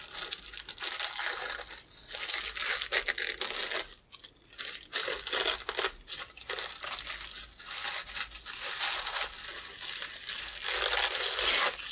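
Embroidery stabilizer is torn and peeled away from fabric stitches, giving a continuous crinkly, papery ripping sound close by, with short pauses between pulls and no talking.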